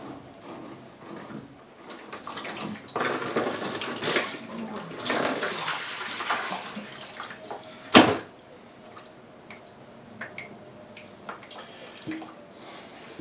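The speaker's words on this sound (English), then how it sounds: "remove the bottom canister and drain any remaining water out of the system" Water gushes and splashes for several seconds as a whole-house water filter canister drains, tapers to a trickle, then a sharp clunk sounds before quieter drips and handling noises.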